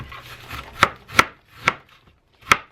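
An onion is chopped on a cutting board in a home kitchen: four crisp, separate knife strikes at an uneven pace, close and clear, with quiet gaps between them.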